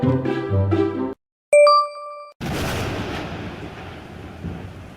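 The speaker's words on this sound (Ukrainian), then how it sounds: "Це гроза." A thunderstorm rolls in with a loud, broad rumble of thunder that fades into ongoing rain-like noise. Before it, a voice speaks briefly and a bright chime rings.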